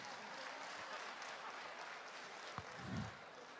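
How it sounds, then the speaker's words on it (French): Audience at the international final of a three-minute thesis competition applauding a finalist, a soft, steady patter of clapping heard from a distance throughout, with a brief knock near the end. "Applaudissements s'il vous plaît."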